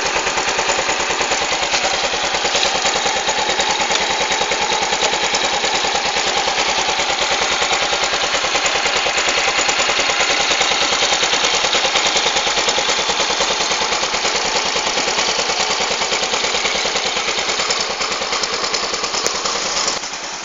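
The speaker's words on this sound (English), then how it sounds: "There's a kicking lever on here, just kick it, and you need to start the vehicle" A 2011 Yamaha Mio automatic scooter engine running close up, a loud, rapid, even putter that holds steady for about twenty seconds with no talking.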